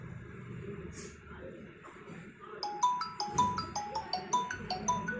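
A Redmi Note 7 Pro phone plays a bright, repeating chime ringtone through its speaker, entering after a couple of seconds of low room noise and pulsing steadily and clearly near the listener.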